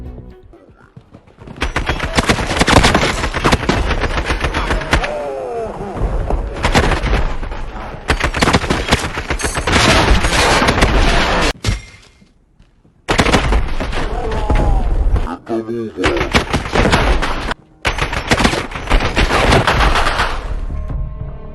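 Rapid automatic gunfire bursts in a Call of Duty: Modern Warfare multiplayer match, loud and close, with dense overlapping shots, explosions and brief pauses, no voices.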